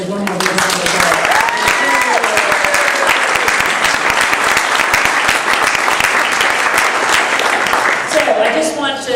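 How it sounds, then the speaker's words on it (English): An audience applauds Beacon Award winners at an opening session, a dense sustained round of clapping with a voice speaking over it. "So let's give all the Beacon Award winners one more round of applause"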